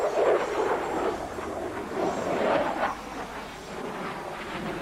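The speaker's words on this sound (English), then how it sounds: "See the rate of roll for such an enormous aeroplane." Large aeroplane in a flying display at the 1993 Biggin Hill International Air Fair, a loud continuous engine roar swelling and fading slightly as it rolls and pulls hard through the turns.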